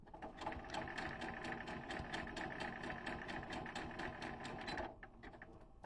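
A sewing machine runs steadily while stitching a blind hem on a garment, its needle ticking in a fast, even rhythm throughout, then it slows briefly near the end before resuming.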